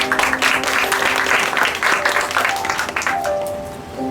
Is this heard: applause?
yes